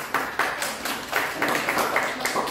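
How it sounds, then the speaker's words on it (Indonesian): Classroom applause for a student group at a junior high school in East Aceh, a steady patter of many hands clapping fairly close, with some voices mixed in. "Berikan tepuk tangan untuk kawan kita."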